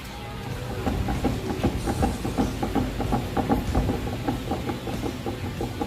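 A Yamaha Aerox V2 scooter with a worn front wheel bearing runs up, giving a steady rattling, knocking drone with rapid rhythmic clatter, close and fairly loud throughout.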